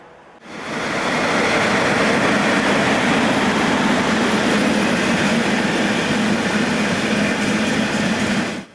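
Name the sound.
DB InterRegio train entering the station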